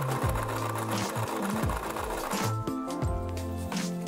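A sewing machine stitches a fabric sample, running as a loud, steady mechanical whir whose pitch rises and falls as the speed changes, with no talking.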